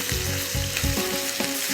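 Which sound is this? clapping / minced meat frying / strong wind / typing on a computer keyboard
minced meat frying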